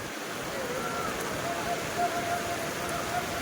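Heavy rain falls at the Taloja vegetable market, with water everywhere. A steady, dense hiss of rain runs all the way through, close and fairly loud, and faint talk sits under it.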